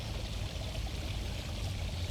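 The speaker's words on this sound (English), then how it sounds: "There's the obvious bubbling of the pond behind me" Steady bubbling and trickling of water from a pond close by, continuous and fairly loud throughout with no talking.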